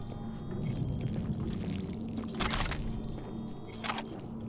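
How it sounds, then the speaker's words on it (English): Running water in Cyberpunk 2077, a steady low pouring wash with a faint trickle, continuous under a low ambient hum, with a couple of brief splashy bursts. "I can hear running water for some reason."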